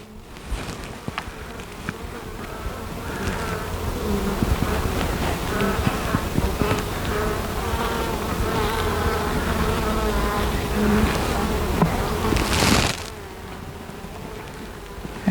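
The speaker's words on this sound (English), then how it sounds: "we'll take that frame, knock some of the bees off it" Honey bees swarm around a hive frame in a dense, steady buzz close by. A brief louder surge comes near the end before the hum settles back.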